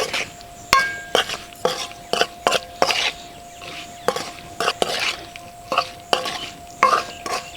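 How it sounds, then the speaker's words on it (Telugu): Mango pieces being stirred with turmeric, chili, salt and ground mustard for an instant mango pickle, a spoon scraping and clacking against the bowl in a steady, close, repeated rhythm with no talking. "ఇదంతా మొక్కలు పట్టుకునే వరకు బాగా కలుపుకోవాలండి"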